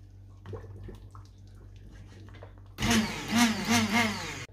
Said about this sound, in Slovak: A rozmixuješ to.